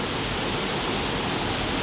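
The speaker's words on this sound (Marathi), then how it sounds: "कसलं जोरात पाऊस चालू आहे." Heavy rain pouring steadily after an hour of downpour, a loud, dense, unbroken roar of falling water close by.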